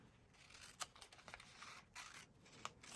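Scissors snip paper for a 1970s-style junk journal page, close and quiet, with a few sharp separate cuts spread over a few seconds against a soft room background.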